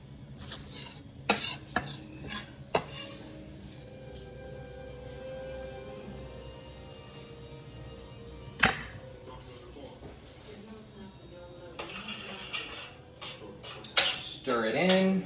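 Ground turkey mixture stirred in a pan for shepherd's pie, with several sharp scrapes and clinks of a utensil against cookware, a steady background television and occasional voices.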